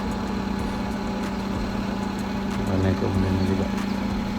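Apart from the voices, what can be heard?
old manual car engine idling while warming up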